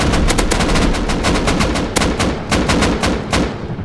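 Loud, rapid gunfire and booming blasts from the video game Rust pound continuously, dense and heavy with sharp repeated impacts and no voices.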